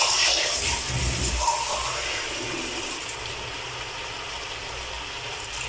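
Water poured into a cooking pot of matoke, a steady splashing pour at the start that settles into a continuous watery rush, close and moderately loud throughout.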